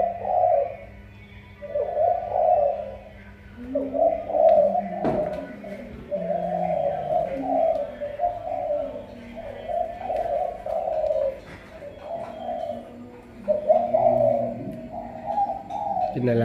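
Caged decoy doves coo in repeated low, rolling phrases, one call after another close by, with faint ticks and a few knocks in between and no talking.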